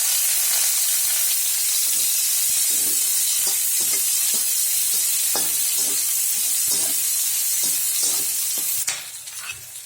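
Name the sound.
onions frying and stirred in hot oil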